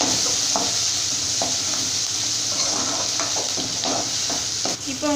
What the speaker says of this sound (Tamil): இப்போ வந்து இதில் வெங்காயம், கறிவேப்பிலை 2 சேர்த்துக்கிறேன். சேர்த்துட்டு நல்லா ஆயிலில் இந்த மாதிரி வதக்கிக்கலாம்.